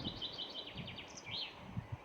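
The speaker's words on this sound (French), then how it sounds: "Et puis ces oiseaux." Small birds singing outdoors in a garden with marigolds and a linden tree under a blue sky, repeated high chirps and short trills at moderate distance over a soft rustling background, with no voices.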